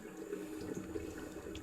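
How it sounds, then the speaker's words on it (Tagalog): Water flows underneath a drainage channel, making a faint, continuous rushing and gurgling with no voices. "Yung agos ng tubig sa ilalim."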